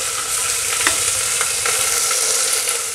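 Ginger garlic paste fries with browned onions in a pan, a steady loud sizzle with a few faint scrapes of stirring, continuous and unbroken throughout.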